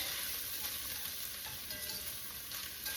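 Vegetables coated in flour cooking in a pot for a creamy potato veggie soup, a soft hissing sizzle with faint stirring scrapes, quiet and steady with no talk.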